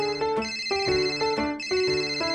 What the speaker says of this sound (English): The phone's ringing.